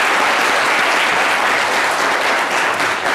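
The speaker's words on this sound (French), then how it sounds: "Agathon, Paulus, sous les applaudissements, pour lui qui nous rejoint avec sa tablette." A studio audience on a French TV set applauds as Paulus Agathon joins with his tablet, a steady, dense wash of clapping that stays loud and even throughout.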